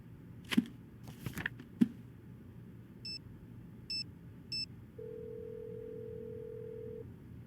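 Phone calling tone in the Nancy Drew game Alibi in Ashes: three short electronic beeps at even spacing followed by a long steady ringback tone, after a few brief clicks, with no speech.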